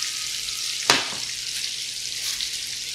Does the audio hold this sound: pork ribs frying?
yes